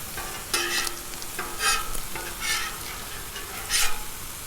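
Bacon sizzling on a Blackstone griddle over medium-high heat, a steady crackle broken by several short bursts of scraping and stirring.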